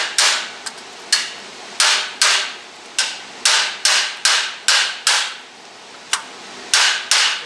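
Steady, fairly rapid hammering on sheet metal for a 1958 car's rear roof repair, a dozen or more loud ringing strikes in a regular rhythm, with a couple of lighter taps mixed in.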